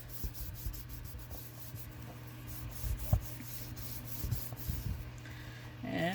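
Paper is rubbed by hand while a Halloween mini album is being made: soft, close, uneven scuffing and brushing with faint taps, quiet throughout and without speech.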